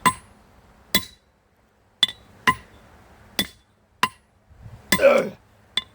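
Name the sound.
hammering a steel drift with a 4-pound hammer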